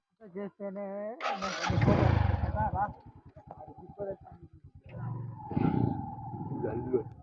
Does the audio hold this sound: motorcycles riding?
yes